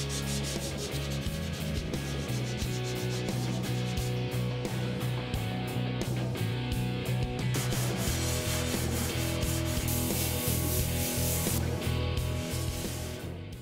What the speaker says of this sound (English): Now that I finished block sanding with 180 grit